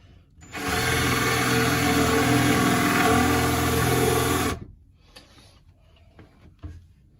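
A power drill whirs loudly and steadily for about four seconds while installing van cabinets, then stops, leaving quieter handling noises and light clatter.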